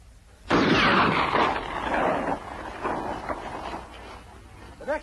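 A gunshot in a 1956 Zorro film: one sudden loud blast followed by a long rolling decay, with no voices.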